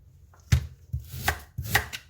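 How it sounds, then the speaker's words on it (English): A knife strikes a cutting board in a few sharp, separate chops of garlic and onion, spaced unevenly, close and clear in a quiet room. "I'm going to chop all my vegetables."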